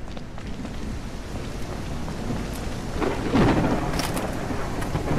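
Rain and a thunderstorm in the video game No One Survived: dense steady rainfall hisses throughout, and a deep rumble of thunder swells near the middle and lingers, with no talk.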